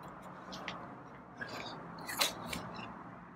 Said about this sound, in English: Wow, is that a slurping